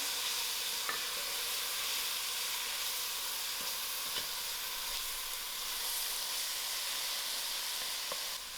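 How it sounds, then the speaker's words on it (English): Grated tomatoes hiss and sizzle steadily in a frying pan while lamb shanks with red wine gravy are being made, a continuous bright frying noise with a few faint clinks. "So I'm going to add in my 2 grated tomatoes to the fry."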